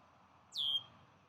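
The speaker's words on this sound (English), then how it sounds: "There's Daddy blackbird." A male red-winged blackbird gives a single short, descending call outdoors. It is fairly faint and sits above a low, steady background hiss.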